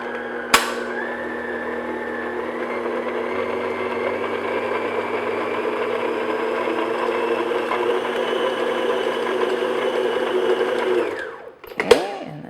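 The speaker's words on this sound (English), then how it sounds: "Have your mixer on low speed because you don't want that flour coming up." An electric hand mixer runs steadily on low speed, blending flour into a cranberry upside-down cake batter with a constant whirring motor hum, starting with a clunk and stopping with a rattle near the end.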